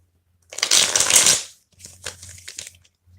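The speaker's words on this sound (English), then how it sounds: "All right, I'm just shuffling here." Mini white cat tarot cards are shuffled by hand, two close bursts of riffling: a long loud run followed by a shorter, softer one after a brief pause.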